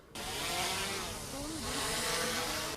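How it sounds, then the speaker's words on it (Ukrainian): A steady, high-pitched motor whine with wavering tones, close and continuous, from a small military reconnaissance drone fitted with a grenade-drop system buzzing as it climbs higher. "Пташка Артема здіймається все вище у небо."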